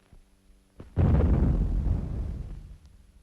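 An explosive shot fired underground in a coal mine booms once, loud and heavy, then rumbles and decays over a couple of seconds, with no voices.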